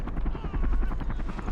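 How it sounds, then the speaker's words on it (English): A helicopter in the war game Men of War: Assault Squad 2 during a Cold War battle at the Berlin Wall, its rotor chopping in a steady rapid throb with a deep engine drone, continuous and fairly loud. "Unfortunately, it seems a chopper is very hard to destroy."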